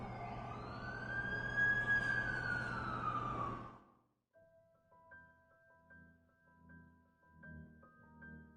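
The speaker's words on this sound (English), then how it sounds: "That's the ambulance I called." An ambulance siren in The Amazing Spider-Man 2 game wails loud and close for about four seconds, then cuts off abruptly to quiet music.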